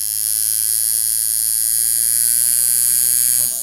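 A modified tattoo clipcord machine runs at 4.2 volts, giving off a close, loud, steady electric buzz with a constant tone before it stops just short of the end.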